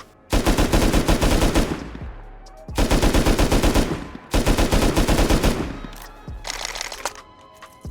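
Assault rifle firing in the console edition of the game Rust, three long full-auto bursts of rapid, evenly spaced shots, loud and close, with a shorter, softer fourth burst near the end.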